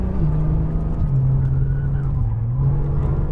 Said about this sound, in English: Squeezing that throttle. Full throttle here.